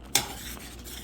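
A spoon stirs semolina (rava) with jaggery for kesari in a pan over a low flame. One sharp scrape is followed by a soft, steady bubbling hiss. The sound is close and quiet, with no voices.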